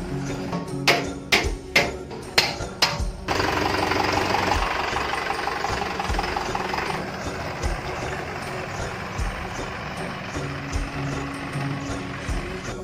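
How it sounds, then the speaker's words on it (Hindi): A tractor engine runs loud and close, first with a few sharp knocking revs, then settling into a steady rumbling drone as the tractor pulls out. "अभी ट्रैक्टर निकल चुका है बाहर को"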